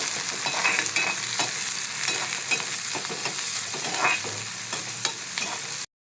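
Sliced onion and a slit green chili sautéed in a clay pot for a Kerala-style curry, a continuous bright sizzle with repeated stirring scrapes up close, stopping abruptly at the end.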